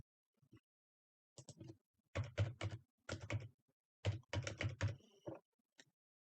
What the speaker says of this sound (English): I can use a calendar box to select the date, or I can type it in.